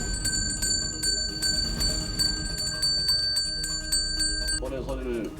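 An exorcist's hand bell rings repeatedly in a sustained, bright metallic jangle, fairly close and loud, then stops as a voice begins speaking.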